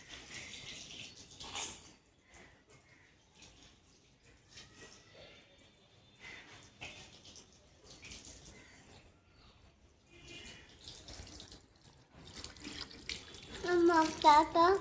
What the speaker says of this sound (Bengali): জল দিও না, জল এই দেখো ধুয়ে দিচ্ছে